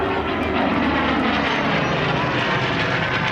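A Hawker Hurricane Mark 12 fighter with a Canadian-built Rolls-Royce Merlin 25 engine of around 1,300 horsepower drones steadily at an airshow, a loud, continuous propeller-engine roar filling the whole stretch.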